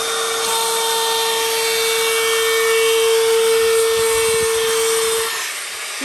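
A power tool trims the edge of a kitchen worktop in a steady, loud, droning whine with a sustained tonal hum, running continuously and close for several seconds before easing off near the end, with no talk.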